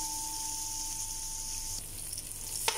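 Vegetables being sautéed in a pan while home-cooking a seafood dish, with a steady close sizzle throughout, a thin tone that cuts out partway, and a short scrape near the end.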